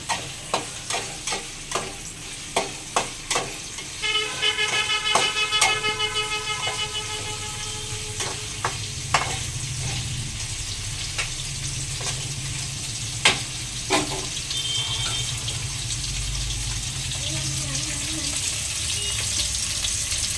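Paneer fries in ghee toward light brown, a steady close sizzle with a run of regular scraping taps from a spatula at the start and scattered clinks and stirring sounds afterward, no voices over it.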